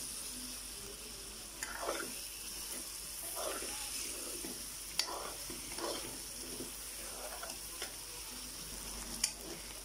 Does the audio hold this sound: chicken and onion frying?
yes